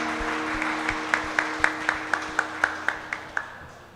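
A church congregation claps in steady rhythm, about a dozen even beats over a sustained musical tone during a worship service.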